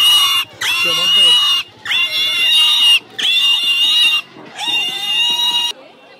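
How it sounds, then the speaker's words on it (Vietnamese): A pig at a highland market in Đồng Văn squeals loudly and close by, giving five long, shrill cries separated by short pauses. "Còn lợn này chắc là vẫn muốn đi chơi chợ này."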